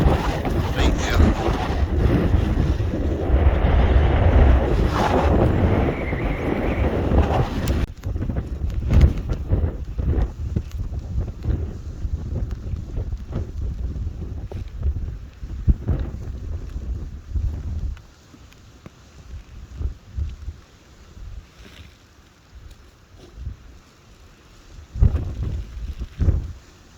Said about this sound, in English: it is quite kind of breezy